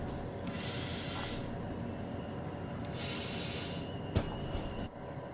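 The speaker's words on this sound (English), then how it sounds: "Braking." A train braking in the Train Sim World 5 video game, with two long bursts of brake air hissing over a steady rolling rumble of the train, followed by a brief sharp clank near the end.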